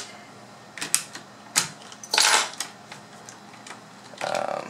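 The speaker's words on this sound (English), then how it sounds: "let me remove the spacebar real quick" Spacebar keycap being pulled off a CM Storm QFR mechanical keyboard with a spacebar noise fault: a few sharp plastic clicks and snaps, one longer scraping rattle, then a short rustle, close up and without talk.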